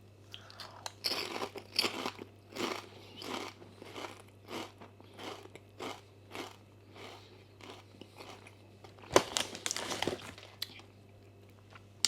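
Lay's cucumber-flavour crisps from China being eaten: a mouthful of loud, close crunches and repeated chewing bites, irregular over twelve seconds with a sharper burst near the end.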